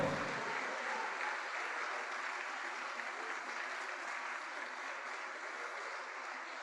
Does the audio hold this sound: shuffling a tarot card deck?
no